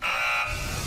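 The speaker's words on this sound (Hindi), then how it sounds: "पहला बजर दबा दिया है" A single electronic buzzer sounds once during a game show fight task, a loud steady tone lasting under a second, with no talking.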